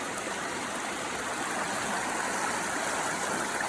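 Water in a stream rushes over rocks with a steady, broadband flow that stays even and fairly close for the whole stretch, with no voices.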